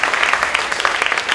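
An audience at a youth poetry competition claps in a brief, dense patter of applause, steady and moderately loud.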